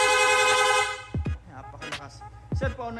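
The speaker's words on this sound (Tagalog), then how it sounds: "Pwede nating i-rapid horn. No? Long press lang po natin yung horn switch kung saan na po siya magsusunod-sunod." A PIAA horn fitted to a Sniper 155 motorcycle blares one long sustained blast, then fires rapid repeated short honks in quick bursts, loud and close.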